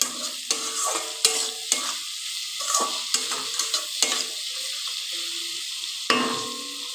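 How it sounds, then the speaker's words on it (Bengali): Bhola fish curry is sautéed in a pan, with repeated sharp spatula scrapes and knocks every half second or so over a thick, close sizzle, and no voice is heard. "ভালো করে কষিয়ে নিতে হবে"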